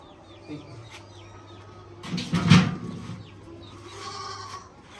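A Hyderabadi breeding buck goat lets out a loud bleat midway, with softer animal calls and bird chirps around it in an outdoor setting.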